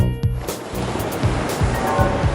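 Sea waves washing and breaking with a continuous surging hiss and rolling low rumble, loud and close with no voices.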